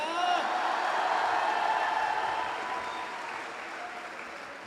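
A crowd at a Hindi comic poetry recital breaks into dense, sustained applause with a faint whoop. The clapping is strongest at first and gradually softens toward the end.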